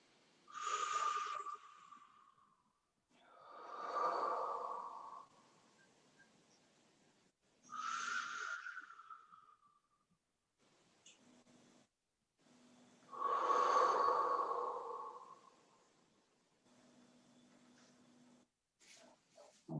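Deep, forceful breaths during a Pilates abdominal exercise with knees drawn to the chest: four or five long hissing exhalations and inhalations separated by pauses, close and clear, with no talking.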